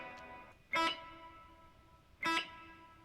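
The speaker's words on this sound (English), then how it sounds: "Let's get a little reverb on here." Electric guitar run through reverb, two short bright strummed chords about a second and a half apart, each ringing out with a long sustained tail, fairly quiet and with no voice.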